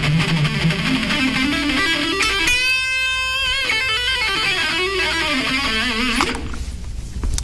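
Fast distorted electric guitar pentatonic licks, two notes per string, play continuously, with quick note flurries and a sustained bending passage in the middle, loud and alone.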